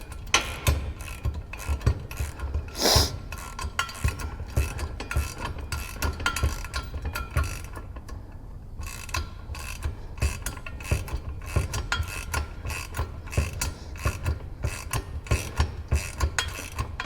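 A washer and nut are tightened on a John Deere bagger kit for a 42-inch mower deck, giving a long run of quick ratchet clicks with small metallic clinks and no voices.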